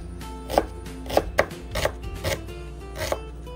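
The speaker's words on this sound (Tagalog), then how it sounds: "Maghiwa din tayo ng sibuyas." Knife chopping onion on a cutting board while preparing grilled milkfish, a series of about six sharp, irregular thuds spaced a fraction of a second apart, close and fairly clear.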